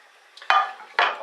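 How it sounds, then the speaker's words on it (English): A metal frying pan is picked up and set down, giving two sharp clanks with a softer knock before them, close by and with no voices. "Okay, so we're getting the frying pan."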